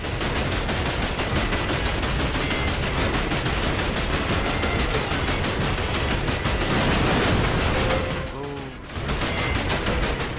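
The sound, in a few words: enemy gun firing in video game Wolf of the Battlefield: Commando 3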